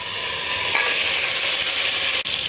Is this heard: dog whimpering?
no